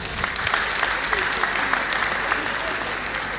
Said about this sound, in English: Can we clap for this innovation?